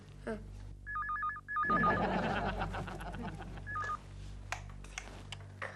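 An old-style telephone bell rings in two quick bursts, then a shorter third ring, loud and close in a domestic setting, with voices and background bustle beneath.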